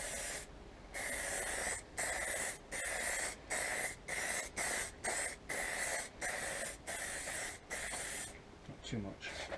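Lacquer being sprayed onto Bandit 1200 motorcycle paintwork in a rapid series of about a dozen short, loud, close hissing bursts separated by brief pauses.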